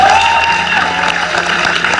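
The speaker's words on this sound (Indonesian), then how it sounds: "Tepuk tangan sekali lagi." Talk-show studio audience applauding a guest: a short, dense wash of clapping and light cheering, loud and steady, with a background music bed running underneath.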